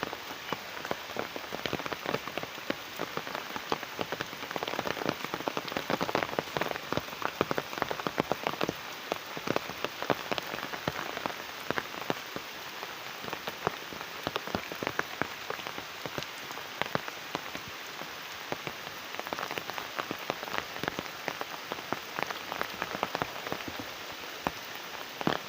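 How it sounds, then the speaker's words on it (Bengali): A heavy downpour of rain drums steadily on surfaces, a dense, constant hiss of countless drops with crackling impacts, close and unbroken for the whole stretch. "কি সুন্দর মুষলধারে বৃষ্টি করতেছে"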